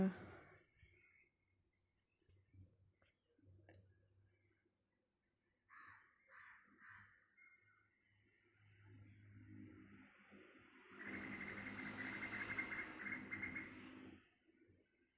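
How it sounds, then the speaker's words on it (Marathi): Sparse bird calls and chirps in a quiet outdoor setting, a few short bursts, then a louder stretch of mixed chatter and background noise near the end. "खूप आवाज येतोय पक्ष्यांचा."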